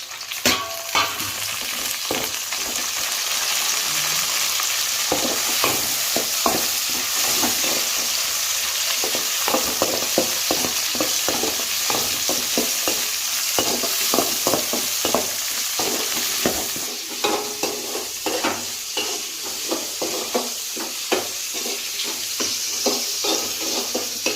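Onions and tomato sizzle and fry in a pan for fish kulambu, a steady loud crackling hiss broken by repeated scraping strokes of a spoon stirring through the mix, with no voices.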